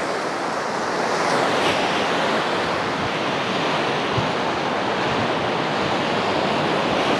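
Stormy sea surf pounds the central beach at Anapa under strong wind, a dense, continuous roar of breaking waves and gusting air with no voices.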